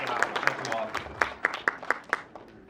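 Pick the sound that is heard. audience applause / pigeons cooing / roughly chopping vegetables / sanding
audience applause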